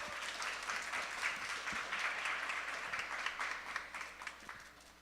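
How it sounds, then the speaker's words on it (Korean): Sustained audience applause welcomes the artist Marine Boy at a live maker event in Seoul: dense, steady clapping from a sizable crowd, moderately loud throughout with no voices over it. "박수로서 맞이해 주시길 부탁드리겠습니다."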